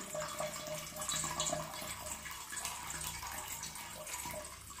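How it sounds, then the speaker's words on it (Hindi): Water from a tap pours steadily into a bowl while a reusable Nelcath catheter is being cleaned, a continuous close splashing rush with no talk. "फिर वॉश करने के बाद एक बाउल में कुछ पानी लूंगा यहाँ पे"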